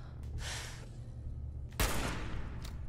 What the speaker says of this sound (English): Okay, I'm gonna sniper him right here.